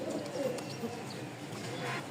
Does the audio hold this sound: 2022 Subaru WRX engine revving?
no